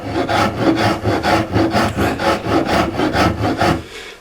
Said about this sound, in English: I'm filing out this recess here, and it's a little bit awkward